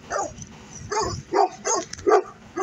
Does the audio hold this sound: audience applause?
no